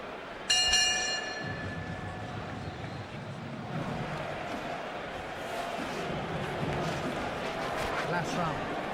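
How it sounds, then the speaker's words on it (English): A ring bell clangs once near the start of a professional boxing match between Joel Casamayor and Jose Armando Santa Cruz. It rings out clearly, then fades under crowd noise and a voice talking. "Bell's gonna ring."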